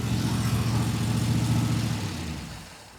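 A 1932 Ford five-window coupe engine with a carburetor and solid lifter cam idles close by, steady and chattery with a low rumble, then winds down as it shuts off near the end.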